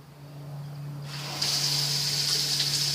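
A hot water tap in a Zinger Lite travel trailer runs with a steady hiss of water, growing louder and rougher partway through as it spurts and sputters with trapped air.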